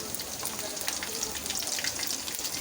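Onion with cumin paste frying in oil in a wok, a steady close crackling sizzle throughout with no talk.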